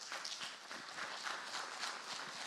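Audience applause at a French gaming convention conference, a dense, continuous wash of many hands clapping at moderate distance, steady throughout with no voices on top.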